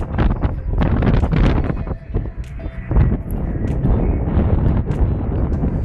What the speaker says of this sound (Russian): Ветер, наверное, дует.